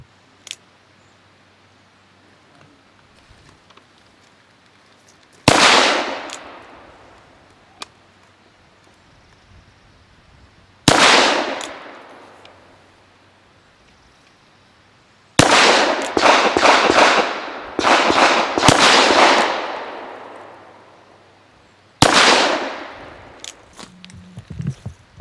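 Traditions Frontier single-action revolver, 4.75-inch barrel, firing Bone Orchard ammunition: five loud, sharp gunshots, single reports spaced several seconds apart with a quick cluster of shots near the middle, each trailing off in outdoor echo, with no talking.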